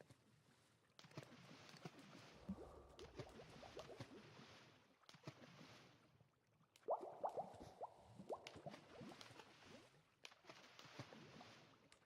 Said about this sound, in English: There is some Minecraft bubble sounds you can hear because of where I'm AFKing